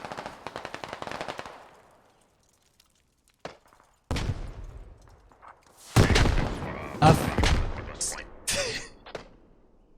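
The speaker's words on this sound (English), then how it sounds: "So many explosions." Rapid bursts of gunfire in the game Squad open the clip, then heavy booming mortar and RPG explosions and more shots crash in, loud and close, with a voice talking underneath.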